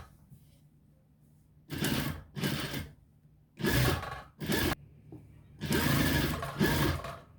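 A sewing machine stitches an Arabian-design burqa in four short, loud bursts of rapid whirring, separated by quiet pauses, heard close up.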